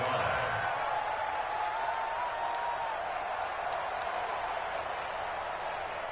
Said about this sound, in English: the crowd getting into it as we come up on a big 3rd down